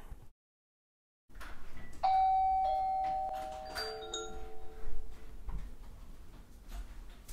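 A Wyze Video Doorbell chime plays as an Alexa announcement, a clear electronic ding-dong with ringing tones that fade out. It follows a brief silence and sounds alone, with no talking.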